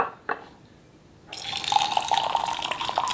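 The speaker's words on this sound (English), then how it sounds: "I actually poured it in the two same cups" Taiwanese oolong tea poured into cups, a steady close splashing stream of liquid starting after a short quiet pause and running to the end, no one speaking.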